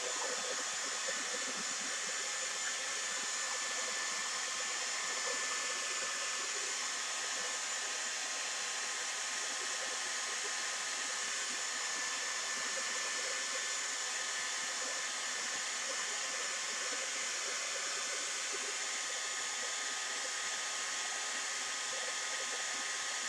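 A hair dryer blows steadily on white glue brushed over wood packaging, a continuous close, loud airy roar with an even hiss that holds unchanged throughout without pauses.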